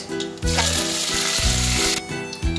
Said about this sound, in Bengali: প্রথমে গোটা গরম মশলার ফোড়ন দিলাম, তারপরে তেজপাতা